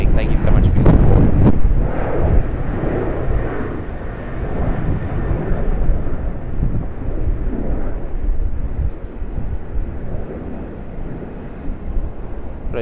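A Jetstar Airbus A321ceo at Sydney Airport gives off a steady, broad jet roar that holds for the whole stretch and fades a little toward the end. A few sharp noises come early, and speech turns up briefly.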